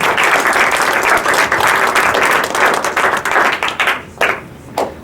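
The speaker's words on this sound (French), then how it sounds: "On applaudit s'il vous plaît, Estelle." An audience applauds a student introduced at a French reading of short lockdown writings, a dense burst of clapping that fades into a few scattered claps near the end.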